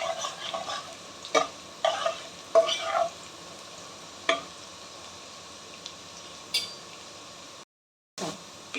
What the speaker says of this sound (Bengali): ভালো করে ফ্রাই করতে হবে।